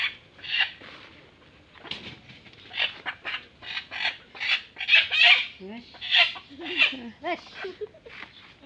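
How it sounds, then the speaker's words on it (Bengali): Egg-laying hens in a village coop cluck and squawk close by in a busy, irregular run of calls with short rising notes, continuing throughout. "আমাদের মুরগিগুলো কত সুন্দর, ডিম পারে, সবগুলো মুরগি ডিম পারে।"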